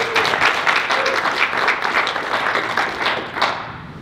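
Audience applause at a business event featuring the CEO of a facility maintenance company: dense, steady clapping from a crowd that carries on for several seconds, then thins out and fades near the end.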